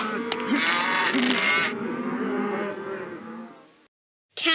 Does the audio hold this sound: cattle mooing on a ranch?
yes